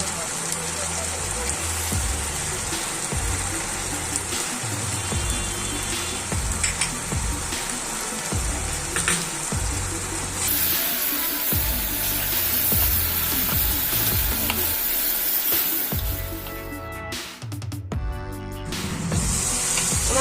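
Ginger paste, spice masala and turmeric frying in a pan for mutton rogan josh, a steady, close hiss of sizzling oil that runs throughout with soft stirring scrapes and no talk.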